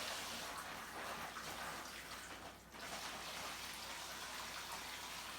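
Cooled turkey brine pours steadily into a container with a hissing, splashing rush, briefly easing about halfway before resuming just as strong.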